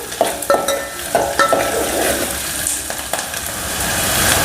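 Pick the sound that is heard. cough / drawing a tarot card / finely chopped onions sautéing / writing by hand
finely chopped onions sautéing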